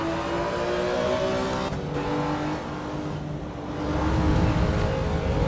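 A race car engine in the Assetto Corsa EVO racing game, driven on a motion simulator, revs and pulls hard under full throttle, with a rising, wavering engine note that dips briefly before surging louder again.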